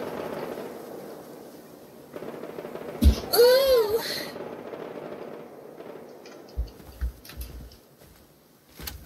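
Two sharp AK assault rifle gunshots in Rust stand out over a steady game soundtrack, followed by a few softer thuds and clicks.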